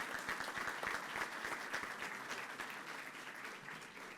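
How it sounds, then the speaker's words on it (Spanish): Audience applause in an auditorium at a housing finance event at the Bolsa de Comercio Rosario, many hands clapping in a brisk, crackling rhythm that holds steady and then eases off slightly, heard at a moderate distance without talk. "Un fuerte aplauso para todos ustedes y a los organizadores de este evento"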